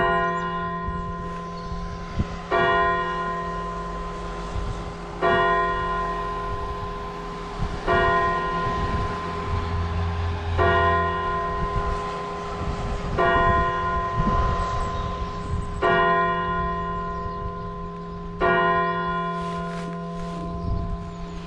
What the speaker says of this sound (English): I just let the bells finish.